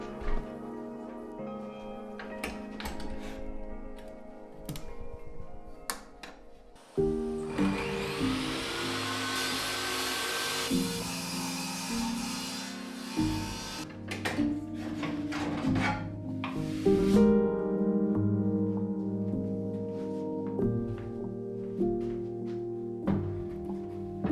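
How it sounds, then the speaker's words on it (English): A table saw cuts plywood to rough dimensions, its motor spinning up to a loud sustained whine and then winding down, with clunks and shuffles of the sheet being handled before and after. "I took it over to my table saw to start breaking it down to the rough dimensions."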